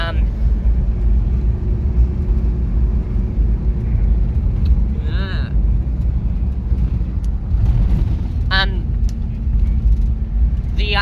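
Engine of a Hilux truck while driving, a steady low rumble with road noise filling the whole stretch, with brief higher whistling sounds standing out now and then.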